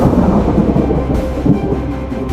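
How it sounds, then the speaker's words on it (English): A deep, loud rumble of thunder rolls continuously for a couple of seconds, heavy low-end booming with no voices over it. "His thunder shook the heavens."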